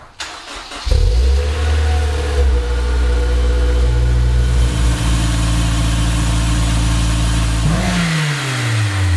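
A Honda S2000 fitted with a new intake, sports exhaust and sports cat starts up with a quick crank, settles into a loud steady idle, then revs with a rising engine note near the end, heard up close with no talking.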